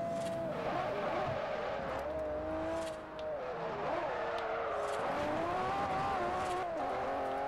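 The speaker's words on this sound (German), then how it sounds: "Was für ein Drift, Freunde." A car drifting in Forza Horizon, engine whining and wavering in pitch as it slides, with rough tire squeal layered beneath in a continuous run that dips briefly in the middle.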